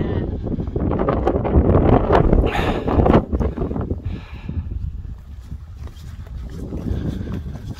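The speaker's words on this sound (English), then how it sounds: "Bit of cold wind that though," Cold wind buffets the microphone on the summit of Moel Gyw in the North Wales hills, a steady, close, low rumbling roar that swells and eases without a break.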